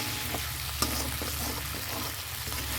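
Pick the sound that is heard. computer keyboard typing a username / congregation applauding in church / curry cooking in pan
curry cooking in pan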